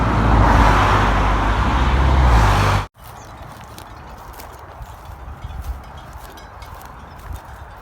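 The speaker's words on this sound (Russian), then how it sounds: "Дивноморские лошадки среди персикового поля." Horses graze and move among the trees of a spring peach orchard in Divnomorskoye. A loud gust of wind or handling noise cuts off abruptly, then faint, scattered hoof steps and rustling follow in a quieter outdoor setting.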